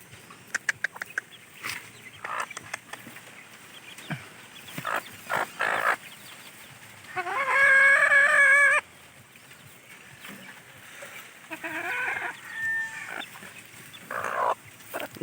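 Asil chickens cluck and squawk in scattered bursts, with one long, loud crowing call from a rooster in the middle and quieter farmyard noises around it.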